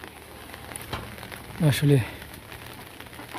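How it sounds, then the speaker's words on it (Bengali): Heavy, continuous rain hisses steadily over a farm on a rooftop, with a short spoken word cutting in briefly near the middle. "আজকে 2 দিন যাবৎ প্রচুর পরিমাণে বৃষ্টি"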